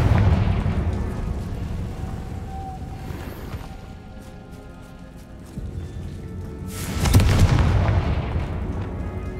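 Fire spell explosions from Confringo in Hogwarts Legacy, booming low blasts with a crackling burst that swell and fade. One big hit lands late amid continuous rumbling game sound, with no talking.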